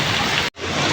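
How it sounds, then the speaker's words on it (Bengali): Heavy rain pours down steadily as a dense, continuous broadband wash, briefly cut by a split-second gap of silence midway before the downpour resumes. "দেখো কেমন জুড়ে বৃষ্টি পড়ছে"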